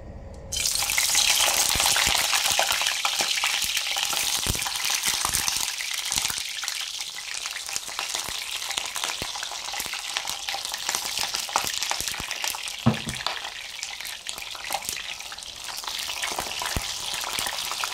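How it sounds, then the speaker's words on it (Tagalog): Eggplant deep-fries in hot oil with a dense, steady crackling sizzle that runs unbroken and close throughout, broken only by a few faint clinks. "Parang deep fry lang siya guys, ganyan."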